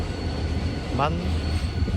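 A passenger train running on rails in South Korea, a steady low rumble throughout with a brief high squeal of wheels partway through, nearby and continuous.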